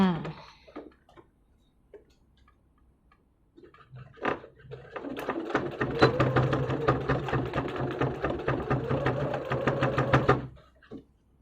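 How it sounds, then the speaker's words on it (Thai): A sewing machine stitches along both sides of a cloth face mask with a filter pocket, running in a steady rapid rhythm for about five seconds, close and fairly loud, after some brief handling noises. "เราก็เย็บสองฝั่งเลยค่ะ"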